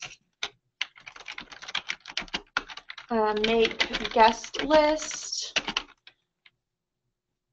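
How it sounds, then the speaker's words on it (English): Quick clicks of a computer keyboard come in bursts while a person speaks over parts of the typing, with the clatter continuing briefly after the voice stops. "excuse my typing"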